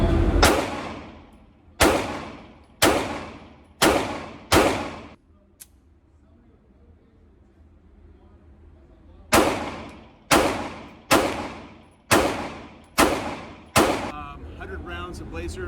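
Sig Sauer P365-AXG pistol firing 124 grain laser brass rounds, eleven sharp loud shots in two quick strings of five and six with a pause between, each crack ringing out briefly.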